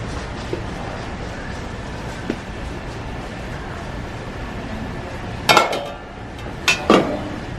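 A heavy cookware pot set handled on a Costco store shelf, two bright metallic clanks late in the moment over a constant busy store hum.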